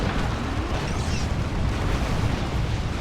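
Rocket run explosions in Dawn of War 2, a dense rumbling barrage of booms and bursts blending into a continuous loud roar over a short stretch, with no speech.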